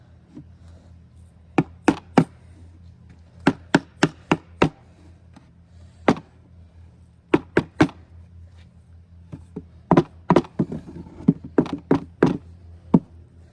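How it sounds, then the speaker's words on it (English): A rubber mallet knocks cedar fence picket boards into place on a planter, sharp wooden thunks in quick bursts of two to five blows separated by short pauses, close and loud with no talking. "I'm now going to use this rubber mallet to knock them into place."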